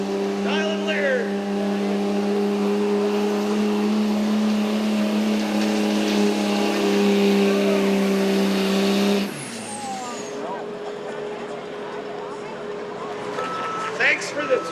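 A Cummins diesel pulling truck revs hard at a tractor and truck pull at a fair, with a loud sustained engine roar that cuts off around nine seconds, followed by crowd and background noise. A voice talks over the scene.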